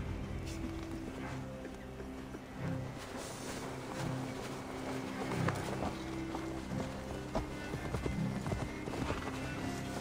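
Horses gallop in the video game Assassin's Creed Valhalla, a continuous rhythmic clatter of hooves at moderate loudness mixed with rumbling background and faint game sounds.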